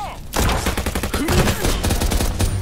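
Rapid bursts of machine gun fire from a video game, a rattling stream of close, loud shots running almost continuously after a brief quiet start.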